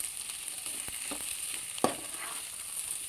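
Shredded cabbage fries in a pan, giving a soft steady sizzle with a few stirring scrapes and one sharper clatter partway through, no voices.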